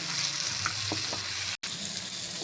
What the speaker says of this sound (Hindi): इसमें लहसुन अदरक का पेस्ट शामिल कर दें और इसको भी अच्छे तरीके से ऑयल में फ्राई कर लें